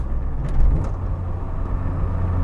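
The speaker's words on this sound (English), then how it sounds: "Beautifully rev matched again down into third gear." An MG Metro's small four-cylinder engine hums and rumbles from inside the cabin, with a brief blip of revs during a downshift into third gear, steady and fairly loud throughout.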